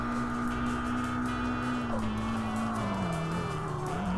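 A small Daihatsu car revving hard through corners in the racing game Tokyo Xtreme Racer Drift 2, a steady, loud engine drone that shifts pitch as the throttle is held, with faint tire squeal mixed in.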